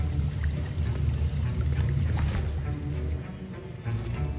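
Liquid swirls and sloshes steadily as a potion is stirred in a cauldron during a Hogwarts Legacy potions class, a continuous moderately loud churning with faint magical shimmer and no talking.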